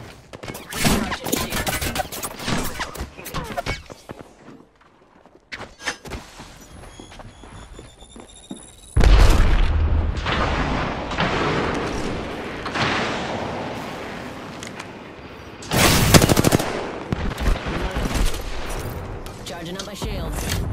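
Video game gunfire in repeated bursts: rapid shots crackle, pause briefly, then return louder with heavy impacts and booms, and scattered footsteps appear between volleys.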